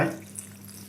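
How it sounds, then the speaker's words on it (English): Water splashes from a tap into a container for a cucumber drink, a brief steady gush that fades quickly. "we're gonna put some water inside of it"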